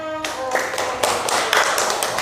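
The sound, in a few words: applause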